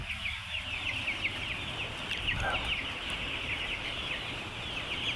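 Poultry chicks at a wholesale chick market chirp in a dense, continuous high-pitched chorus, with clucking mixed into steady background noise throughout.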